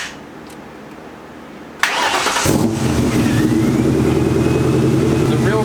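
A 1994–2004 Ford Mustang cranks briefly and catches after a heater core replacement, then settles into a loud, steady idle close by.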